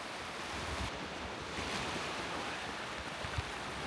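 Sea waves wash steadily onto a beach at Aktaş on the Antalya coast, a continuous broad roar of surf with wind noise over the microphone, no talking.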